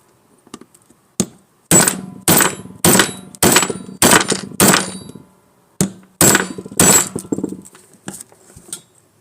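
Hammer and punch driving a pin out of a Canik TP9 Elite SC pistol frame: a sequence of about a dozen sharp metallic strikes, several in quick rhythmic runs with short pauses between, close and loud with no talk.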